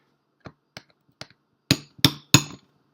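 Hammer blows drive a punch into an MP5 CO2 magazine: three light taps, then three sharper, louder metallic strikes in quick succession, close and alone.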